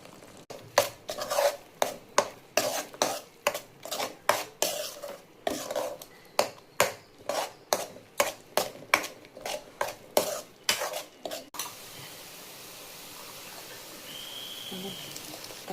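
Spices are stirred into onions in a pan with a spoon, about twenty quick scraping, clattering strokes in a steady rhythm, close up, then the stirring stops and only a faint hiss is left.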